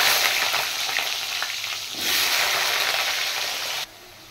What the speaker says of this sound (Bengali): এবার আমি আলু ফ্রাই করে নেব।